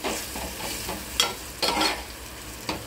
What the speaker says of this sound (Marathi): लाल मसाला पूर्ण टोमॅटो बरोबर आपण गरम करत आहोत पूर्ण